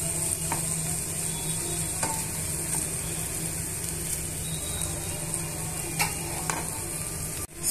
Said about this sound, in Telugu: స్టవ్ మీడియంలో పెట్టుకొని స్పైసెస్ అన్నీ కూడా మనం ఇలా ఫ్రై చేసుకోవాలి।